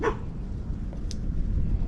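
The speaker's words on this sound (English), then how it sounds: "Where did that dog come from?" A dog barks once inside a tunnel under a city, a short sharp bark at the very start against a low reverberant background hum, followed by faint scattered noises.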